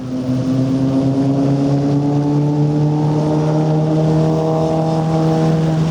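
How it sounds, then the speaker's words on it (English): A 90 horsepower 4-stroke Mercury outboard on a 2020 Boston Whaler 160 SS runs with a loud, steady droning hum that rises slightly in pitch throughout. "powered by a 90 horsepower 4-stroke Mercury"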